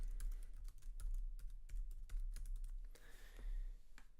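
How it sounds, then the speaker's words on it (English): Someone types on a computer keyboard, a quick, irregular run of soft, close key clicks with brief pauses. "Type in your name again."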